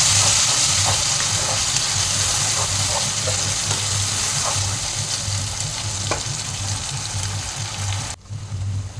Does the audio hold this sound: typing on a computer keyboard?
no